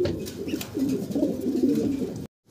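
Pigeons coo at a busy pigeon market, low throaty warbling calls overlapping in a continuous near cluster, with soft background rustle and no speech, ending abruptly.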